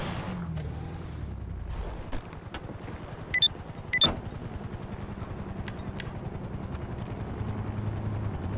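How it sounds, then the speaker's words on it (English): A helicopter arrives in the GTA 5 video game, a low, steady rotor rumble with a few sharp, sudden clicks and bangs cutting through the middle. "A helicopter has been dispatched."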